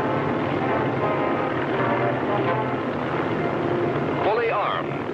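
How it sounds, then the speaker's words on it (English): B-29 bombers of the 21st Bomber Command take off in World War II, their piston engines making a loud, steady propeller roar that fills the whole stretch without a break. "Fully armed, the 21st Bomber Command was taking off for Japan."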